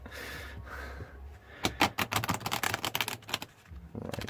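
A rapid run of crisp flicking and riffling as tarot cards are shuffled, close and fairly quiet, following a soft rustle.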